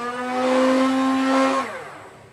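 Motors of a Nerf Fortnite SCAR toy blaster spin up with a loud, steady electric whine for about a second and a half, then wind down and fade.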